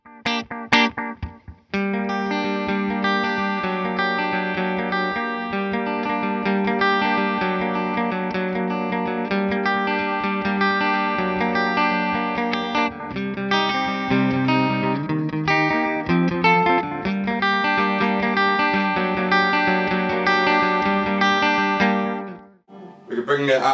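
An electric guitar played through a Seymour Duncan Vapor Trail delay pedal with the delay mixed louder than the dry signal: sustained notes and chords with dense repeating echoes, continuous and up close for over twenty seconds.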